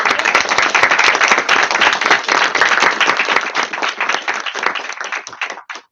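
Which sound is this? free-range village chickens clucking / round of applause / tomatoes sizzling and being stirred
round of applause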